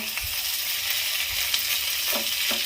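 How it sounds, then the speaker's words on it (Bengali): Continuous loud sizzling of potatoes and pointed gourd frying in a pan, with occasional scraping knocks as a spatula stirs them. "ঘন ঘন নেড়ে দেব, নেড়ে ভাজা ভাজা করব"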